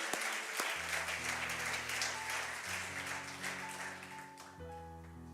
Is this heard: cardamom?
no